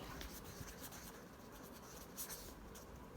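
Faint hand-writing of math equations on paper, with soft continuous scratching strokes and a few brighter scrapes, quiet and alone without speech.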